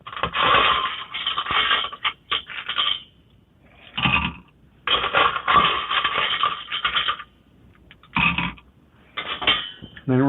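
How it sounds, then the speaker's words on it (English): Ice cubes dropped into a cocktail glass for a whiskey sour, coming in several loud bursts of clinking and rattling with short pauses between them, close by and with no talking. "Add a little bit more ice to our glass"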